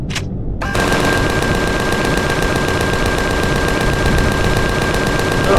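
A minigun fires in the Empyrion video game, a loud continuous roar of rapid shots that cuts in after a brief whine and holds steady at close range with no pause.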